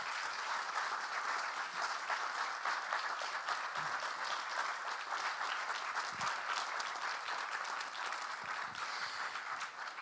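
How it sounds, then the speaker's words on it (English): Sustained audience applause fills a university hall at an honorary doctorate ceremony, dense steady clapping from a large crowd lasting throughout without a break. "of course, surrounded by applause."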